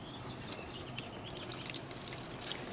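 Water pours and trickles over a Samsung Rugby smartphone as simulated rain, a steady faint splashing with a few brighter drips standing out, no voices.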